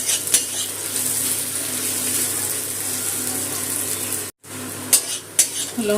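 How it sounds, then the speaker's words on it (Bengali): Green chilies stirred and fried in a pan alongside onion and garlic, a steady close sizzle with a few sharp utensil scrapes and clinks near the end, no voices. "কাঁচা লঙ্কাটাও একটু ভেজে নিলাম"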